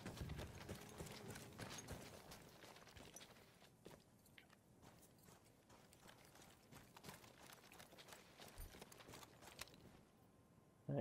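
Horse hooves pound in a steady galloping clip-clop in the Battlefield 1 video game, quiet and continuous with scattered clatter, ending in a sudden louder hit.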